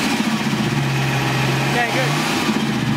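A procharged LS1 V8 in a 1968 Firebird idles steadily after sitting six months, a close, loopy rumble with a hum running through it, while people talk over it.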